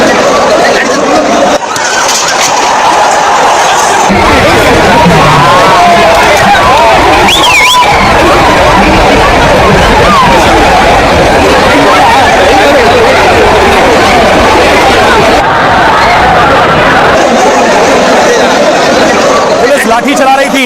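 A crowd stampedes outside a stadium as police charge with batons: a loud, constant roar of running, shouting people and babble that fills the whole stretch, with a voice talking over it.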